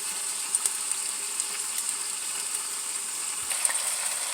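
Chicken and garlic frying in a pan for adobo make a constant bright sizzle, close and even, punctuated by a few sharp pops and spatula taps, with no speech.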